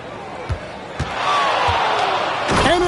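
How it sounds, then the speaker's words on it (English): A loud slam dunk by Anthony Edwards in a Minnesota-versus-Houston Rockets NBA game, preceded by a couple of dribble bounces and followed by swelling arena crowd noise and squeaking shoes, with a commentator talking over it. "And Edwards slams it in."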